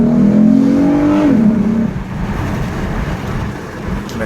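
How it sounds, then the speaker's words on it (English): A 2014 V6 car with a sport shift button accelerating on a test drive in first gear: a steady engine hum rises in pitch, then drops as the car shifts and road rumble carries on, close and loud. "Let's take this for a test drive."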